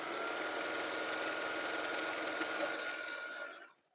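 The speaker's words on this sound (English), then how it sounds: "Some fabric I can't sew as fast on this machine either" A sewing machine stitches fabric tubes for a jelly roll rug, running as a close, steady, continuous whir before stopping abruptly near the end.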